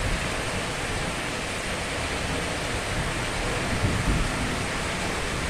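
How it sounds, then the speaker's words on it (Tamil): Steady, dense hiss of rain falling in Theni, Tamil Nadu, even and continuous with no talking, like a heavy downpour heard nearby. "இப்போ அரை மணி நேரமாக மழை பெஞ்சிக்கிட்டு இருக்கு"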